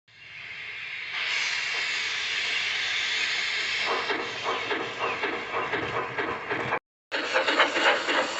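A steady, loud hiss of escaping steam with rhythmic chuffing pulses building underneath, broken by a brief silence before resuming.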